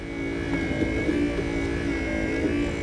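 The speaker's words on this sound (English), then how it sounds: "that is the antenna. It has a electronical antenna." Electric power antenna motor on a 1989 Pontiac Firebird Formula, a steady whirring buzz that runs close and continuous throughout.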